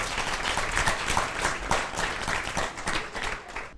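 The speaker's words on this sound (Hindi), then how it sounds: "एक बार ज़ोरदार तालियां इनके लिए।" An audience at a spiritual youth gathering in India claps steadily, a dense wash of applause lasting several seconds before tapering off at the end.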